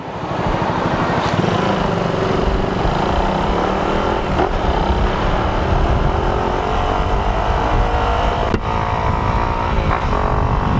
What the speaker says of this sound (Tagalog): Nagwawala yung motor ko.